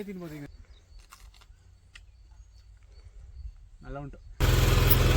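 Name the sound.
tractor engine running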